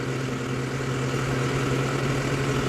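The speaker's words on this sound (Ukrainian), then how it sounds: "Ну і звук мотора, звісно, відчувається." A steady, loud diesel engine of a 2024 tractor idles and rumbles with a deep, even drone, alone and close by.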